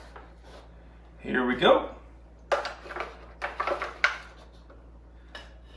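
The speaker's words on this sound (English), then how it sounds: "I'm gonna get the spatula underneath here" A metal spatula scrapes under eggs and lifts them out of a RoadPro lunchbox oven, giving a short scraping rasp followed by a few light metallic clinks and taps, close up, with a brief spoken remark.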